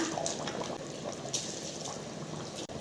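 Continuous bubbling and hissing of liquid boiling hard in a pot for mutton biryani, close and steady, with no voices.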